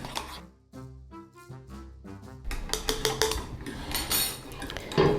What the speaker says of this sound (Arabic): نحط معلقه سكر زي ما هم قايلين، واللي عايز يزود بقى يزود. نقلب نقلب نقلب بسرعه بسرعه بسرعه.